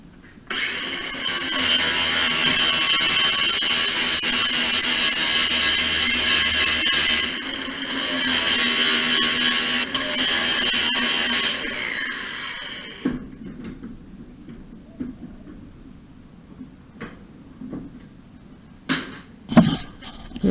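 Angle grinder grinding a metal link where it joins a CRF250L motorcycle luggage plate before welding: a loud, steady high-pitched metallic whine for about twelve seconds with a brief dip midway, then scattered clanks and handling noises.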